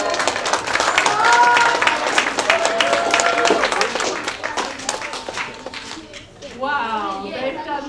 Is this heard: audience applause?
yes